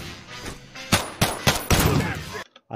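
Gunfire and an exploding box in the video game The Day Before: several sharp, loud gunshot bursts in quick succession, ending with a blast that cuts off abruptly.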